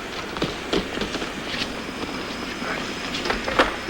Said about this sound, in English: My own train departs for Heidelberg in exactly 3 minutes.